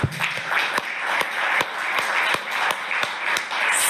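An audience applauds in a large room, a sustained wash of many hands with a few sharp, close claps standing out at irregular intervals.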